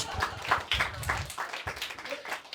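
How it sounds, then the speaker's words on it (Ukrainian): Stand-up comedy audience at a Lviv show clapping in a short, uneven burst, with scattered voices and laughter mixed into the applause. "Давайте оплески"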